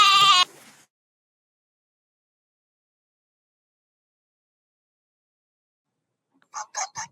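Goats bleat in two short bursts: one loud, wavering cry at the start, then after a long silence a quicker run of three faint, choppy bleats near the end.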